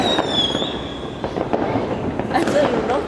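A 2019 fireworks display over the village of Nghi Lộc, with a steady, dense crackle and pops near and far, while people chat in the background.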